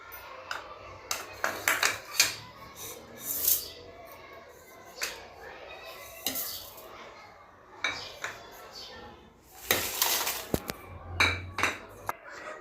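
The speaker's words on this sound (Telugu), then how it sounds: "అన్నీ 1 by 1 మిక్సీకి వేసుకుంటున్నాం ఫ్రెండ్స్" Roasted curry leaves and other fried ingredients dropped one by one into a mixer jar, giving scattered light clinks and taps of varied loudness, fairly close, with soft background room noise.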